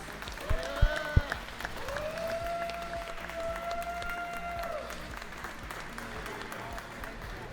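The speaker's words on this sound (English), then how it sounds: "Let's give a round of applause to Full Send for having us" Fairly quiet crowd applause at a drone racing event, a steady wash of clapping with a few louder pops near the start and a high whistling tone running over it.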